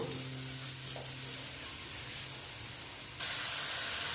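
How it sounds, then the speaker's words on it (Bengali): Onion, garlic and ginger paste with chili powder sautés in a pan, giving a soft, steady hiss and sizzle that is quiet and close. The hiss grows louder near the end, and no one speaks. "এইবার আমি এটাকে ভালো মতন কষিয়ে নেব"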